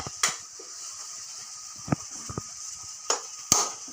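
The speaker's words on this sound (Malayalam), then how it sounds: "ഞാൻ നാളികേരം എടുക്കട്ടെ, പൊട്ടിക്കട്ടെ." A coconut being cracked open with a few separate sharp knocks, spaced unevenly over a few seconds against a quiet background with a faint steady hiss.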